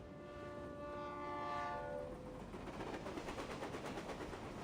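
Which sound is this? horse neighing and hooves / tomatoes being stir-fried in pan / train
train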